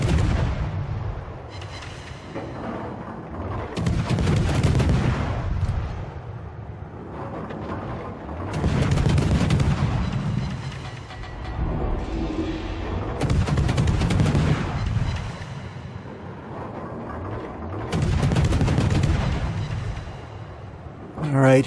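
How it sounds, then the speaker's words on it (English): Naval guns of the USS Atlanta cruiser firing high explosive shells in a warship video game, heavy booming salvos repeating every few seconds over a steady rumble, with a voice talking throughout. "we just sit behind this island and shoot over it, and see what we can do."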